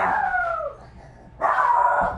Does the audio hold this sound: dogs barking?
yes